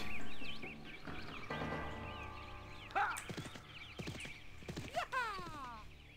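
Horse hooves clop in an uneven rhythm in the video game Desperados: Wanted Dead or Alive, mixed with a whinny and some high chirping tones.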